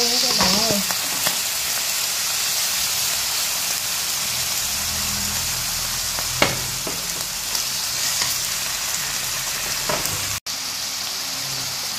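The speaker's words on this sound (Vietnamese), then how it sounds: "Mình sẽ đổ miếng nước vô nha các bạn ơi." Water poured into a pan of king oyster mushrooms simmering with ginger gives a steady loud sizzle and bubbling hiss, close up, with a few clinks of utensils and a sharp knock near the end.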